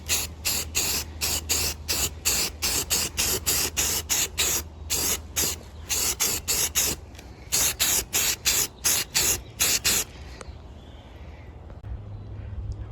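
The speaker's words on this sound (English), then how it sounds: "I'm going to now give this a coat of filler primer" Spray can of filler primer coating a Spider-Man 2099 helmet build, heard as a long series of short, loud hissing bursts in steady rhythm, close up, then fading to quiet room tone.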